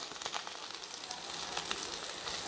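Amaranth leaves dropped into hot tempering oil in a home kitchen, giving a continuous crackling sizzle that is close and fairly even, with no talking.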